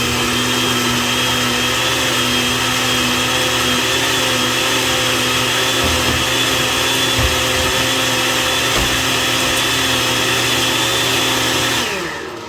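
A blender purees a batch of pupusa sauce ingredients, its motor a loud, continuous whirring roar held steady for about twelve seconds before it begins to wind down at the end.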